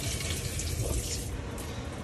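Water spraying from a handheld shower head inside a Ram Promaster camper van, a steady close hiss of running water.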